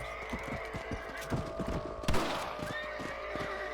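A horse in the Red Dead Redemption video game whinnies and snorts while its hooves clop in an irregular rhythm on the ground, close and clear, with a heavier thud midway and no talking.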